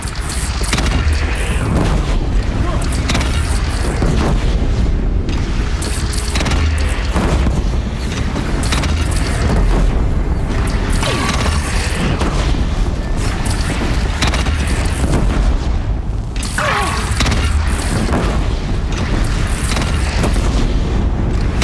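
Repeated heavy cannon booms and blasts from the Horizon Zero Dawn video game fill a dense, loud battle scene, with continuous rumbling explosions layered over one another throughout.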